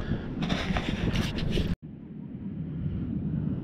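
Steady wind buffeting a microphone on a cold, windy beach, a loud continuous broadband rush with a brief dropout midway, then continuing slightly quieter.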